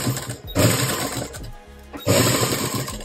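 A sewing machine stitches a handmade cloth nappy for a newborn baby, running in two loud, close bursts of rapid mechanical whirring separated by a brief pause.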